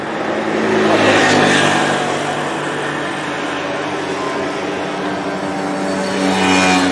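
A car drives past on a town road at the Ponte dei Cavanis in a 30 km/h zone. Its engine and tyre noise swells as it nears, then fades, and another vehicle starts approaching at the end.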